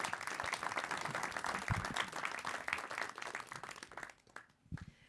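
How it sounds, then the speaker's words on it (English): Audience applause after a panel talk, many hands clapping steadily and fairly close, then thinning into a few scattered claps before fading out. "So maybe if you give them a round of applause"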